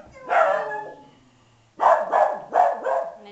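Dogs bark loudly and close by: one drawn-out bark-whine, a short pause, then three quick sharp barks in a row, with no talk over them.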